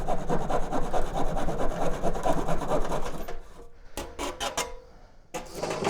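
Hand saw cutting wood along a marked line, rhythmic back-and-forth rasping strokes close and steady for about three seconds, then a few short scraping strokes with quiet gaps.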